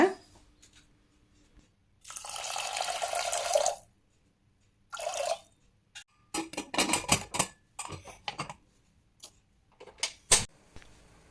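Water splashes and pours into a pot of lentils for pressure cooking in a home kitchen, in a few separate bursts of splashing and dripping with quiet gaps and light clinks of utensils between them.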